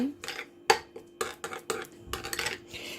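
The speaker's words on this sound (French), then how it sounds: "Je vais bien mélanger" A spoon mixes a mixture with salt in a bowl, giving a series of close, bright clinks and scrapes against the bowl at an irregular pace, separated by brief quiet gaps.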